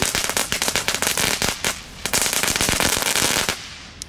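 Crackling firecrackers bought from Aldi go off in a dense, rapid string of sharp pops and bangs, loud and close throughout, with only brief gaps between bursts.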